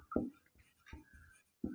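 Chalk on a classroom board during a Hindi chemistry lesson: a few short scratchy strokes separated by pauses, close and fairly faint.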